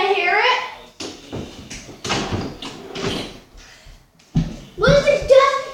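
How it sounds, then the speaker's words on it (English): A door is pushed shut indoors with a sharp thud partway through, while someone talks and sings before and after it. "I want to shut the door so you can't hear it?"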